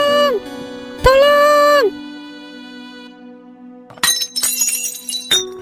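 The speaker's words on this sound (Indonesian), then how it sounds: "Gelas pakai jatuh gue pegang." A drinking glass drops and shatters: bright crashing and tinkling shards in two bursts near the end, loud and close, following sustained tonal music.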